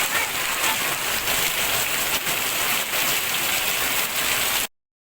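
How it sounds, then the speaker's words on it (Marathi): Heavy rain pours down in a dense, steady hiss, loud and continuous with no talking, then cuts off abruptly near the end. "खूप जोरात आणि खूप भयानक पाऊस चालू आहे खरंच"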